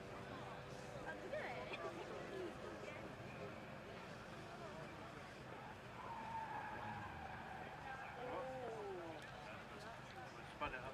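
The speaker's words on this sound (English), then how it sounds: "Big screeching tyres there." Distant tyres screeching through a corner as a Ford Fiesta ST rally car passes on a Scottish rally stage, with engine noise and crowd murmur in the background.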